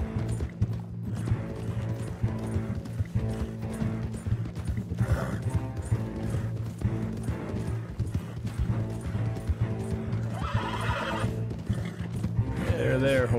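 A horse in a video game gallops with quick, rhythmic clip-clop hoofbeats and lets out whinnying neighs. The sounds run continuously and loudly for the whole stretch.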